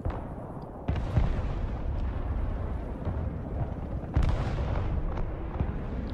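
Heavy bombing in the video game Broken Arrow rumbles as a continuous low roar of explosions, with a few sharper blasts breaking through the dense, booming wash.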